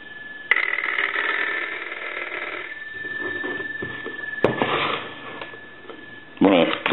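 An old American candlestick telephone with a bell box rings in a long electric bell burst, then goes quiet while someone talks, and a second ring starts near the end.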